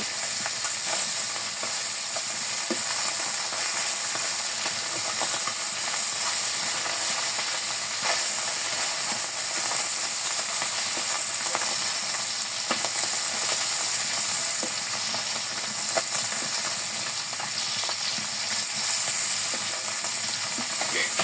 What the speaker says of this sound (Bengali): গরম তেলে করকরা মাছ ভাজা, বাটা মাছ ভাজা ছোট ছোট।